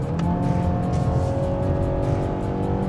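2024 Mazda CX-5 engine pulling steadily uphill on a foggy road, a continuous smooth drone heard from inside the cabin at moderate loudness.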